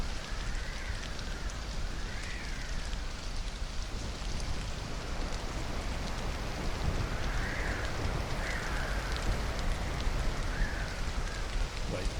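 Steady rain falls in the survival video game Stranded: Alien Dawn, a continuous even hiss that lasts throughout, with a few faint rising chirps drifting over it.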